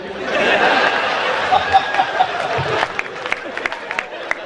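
Audience at a Hindi kavi sammelan poetry gathering in Waidhan, Singrauli, giving brief, scattered applause mixed with crowd chatter and some chuckles, loud and close.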